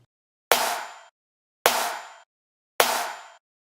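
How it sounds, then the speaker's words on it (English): A layered clap and snare drum sample from a dance track drop hits three times in an even rhythm, each strike a sharp bright crack with a short decaying tail and silence between. "And the snare sounds like this."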